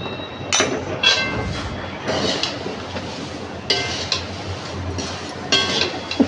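Thin poha chivda stirred in a pan on low gas after powdered sugar is added, producing repeated clinking scrapes of spoon against metal in irregular bursts, close and fairly loud.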